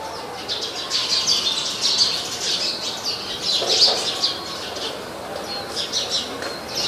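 Small birds chirp and tweet inside Jaisalmer Fort in Rajasthan, with bright, repeated calls at moderate distance scattered over a soft ambient hush.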